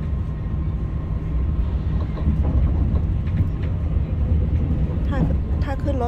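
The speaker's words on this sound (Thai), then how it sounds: "รถไฟสายเร็วนะคะ" Steady low rumble of a moving express train interior with rattling and clatter, people chatting faintly in the background throughout.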